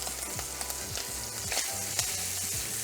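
Brussels sprouts and pancetta sizzle steadily in a frying pan, a loud continuous hiss with occasional soft knocks as they are moved around.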